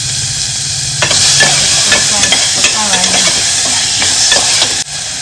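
Onion and tomato fry in hot oil tempered with mustard seeds and asafoetida for a Gujarati masoor dal, a loud continuous sizzle with stirring clinks and scrapes, cutting off abruptly near the end.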